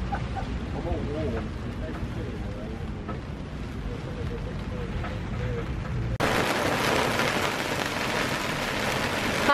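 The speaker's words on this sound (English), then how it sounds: "It is proper raining." Steady rain falling on a sailing boat during an Atlantic crossing, a constant hiss of drops on surfaces mixed with wind, growing brighter and louder toward the end, with faint voices underneath.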